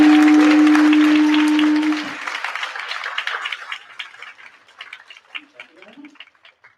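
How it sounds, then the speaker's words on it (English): A symposium audience gives a round of applause, dense and loud at first under a steady held tone that cuts off, then thinning into scattered, fading claps. "One last big round of applause."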